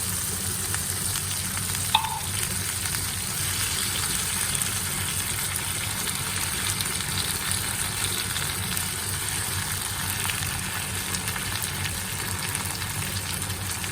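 Argentina corned beef sizzles in a pan with cooked tomatoes, a steady, even frying hiss that runs unbroken throughout, with one faint clink early on.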